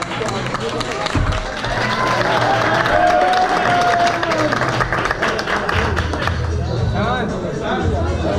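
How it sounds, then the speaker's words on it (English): An audience claps and cheers for a contestant at a live event, sustained applause from a crowd with voices mixed in and a low rumble underneath. "Give them a big applause, ladies and gentlemen."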